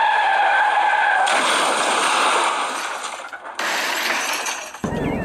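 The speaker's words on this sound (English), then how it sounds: "So durability test hit the trees just now." An MJX Bugs 3 brushless quadcopter crashes into trees, giving loud crackling, snapping impacts of props and branches that roll through the clip, then drop into a brief pause before a final scrape.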